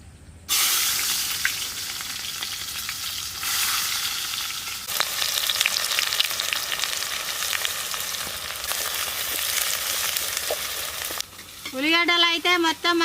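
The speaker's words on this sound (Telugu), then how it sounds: "ఫస్ట్ అయితే మనం ఉల్లిగడ్డలు ఫ్రై చేసుకుందాం." Sliced onions frying in hot oil for chicken dum biryani, a dense steady crackling sizzle heard up close throughout, with a brief voice near the end.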